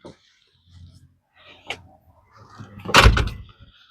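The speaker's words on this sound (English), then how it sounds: "I'll close my door here anyways" A door is pushed shut in bad weather, ending in one loud, close thud after a few soft shuffles and knocks in an otherwise quiet space.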